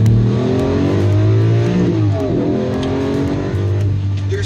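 A Lamborghini Revuelto engine accelerates hard and loud, its pitch climbing in steady sweeps with brief dips as it shifts up through the gears, close and continuous with no talking.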